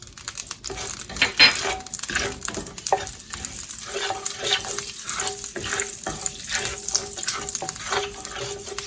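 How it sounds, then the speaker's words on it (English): Half a teaspoon of mustard seeds splutters in hot oil over medium-low heat, a steady close sizzle broken by scattered sharp pops and crackles, with occasional stirring scrapes. "Let them splutter."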